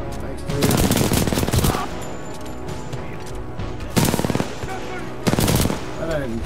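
Supporting fire from the titan BT in Titanfall 2: three heavy bursts of rapid automatic gunfire, loud and close, separated by quieter battle ambience.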